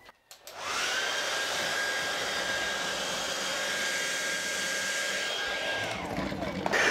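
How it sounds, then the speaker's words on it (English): A hair dryer switches on and blows at a model Harmony wind turbine with a steady whooshing whine for several seconds, then cuts off near the end. "let's put a hairdryer on it."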